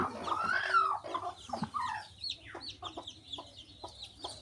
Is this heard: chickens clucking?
yes